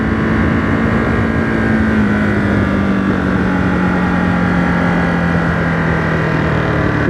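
A 2023 Ducati Monster SP motorcycle engine pulls away in a loud, close, steady drone with a slowly falling pitch, no voices over it.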